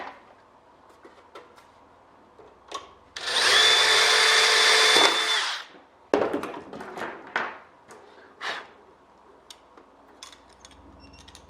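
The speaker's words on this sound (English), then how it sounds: "now that I've got all these spar holes drilled" A power drill bores spar holes in an airplane aileron for a Bearhawk experimental aircraft build, with one loud sustained burst of high whining drilling lasting about two seconds, followed by scattered clicks, clunks and handling knocks.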